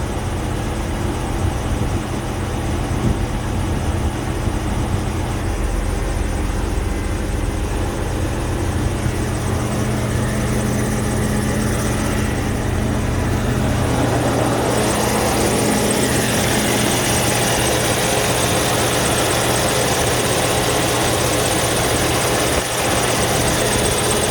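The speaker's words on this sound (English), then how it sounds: "Trying to just bring up the RPM some." A Volvo engine runs steadily and loudly with a constant droning rumble as its RPM is brought up, the tone shifting slightly partway through without any pause.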